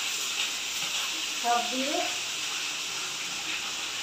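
Chickpeas, peanuts, pumpkin, potato and red potato hitting hot oil in a pan, giving a steady broad sizzle and hiss throughout, with a voice speaking briefly over it.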